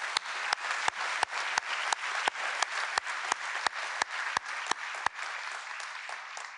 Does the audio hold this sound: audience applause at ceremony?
yes